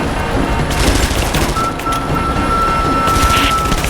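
Constant bombardment in the video game Rise of the Tomb Raider, a dense, steady roar of overlapping blasts and gunfire filling the scene without a break, loud and continuous with a thin tonal whine running through part of it.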